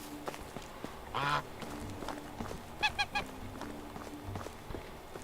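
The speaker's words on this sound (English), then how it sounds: "Ducks." Ducks in the Medieval Dynasty video game give a short burst of quacks, then a quick run of three or four nasal calls, fairly faint over a low ambient background.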